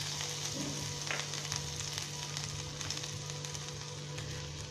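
Chopped ginger sizzling in hot oil while cooking mushroom fried rice, a steady crackling fry with faint scattered pops over a constant low hum.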